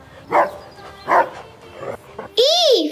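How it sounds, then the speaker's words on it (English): A dog gives a single loud, rising-and-falling bark or yelp at the end, after a voice sings or speaks in a children's song. "D for dog"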